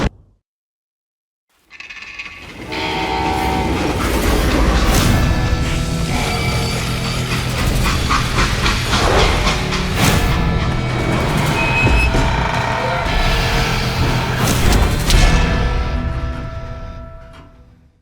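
A freight train in the Western video game Call of Juarez Gunslinger rumbles and clatters loudly and continuously, with metallic screeches and squeals over a heavy low roar.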